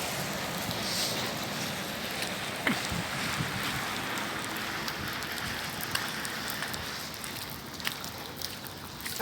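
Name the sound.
rain falling in Dubai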